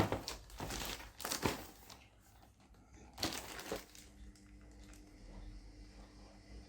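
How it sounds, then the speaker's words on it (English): A plastic postal bag crinkles and tears open in several loud, close bursts of rustling, followed by quieter handling. "how difficult can you make it opening a plastic bag"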